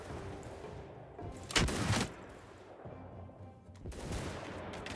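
Gunners fire in a samurai-era battle in the game Shokuho, with a sharp burst of gunfire followed by a second volley a couple of seconds later over a low background rumble.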